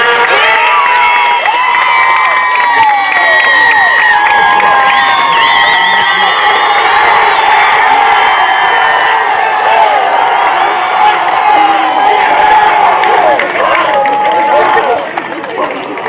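A crowd at a high school Division 4 sectional baseball final cheers, whoops and applauds the champions, a loud continuous roar with high shouts and whistles throughout.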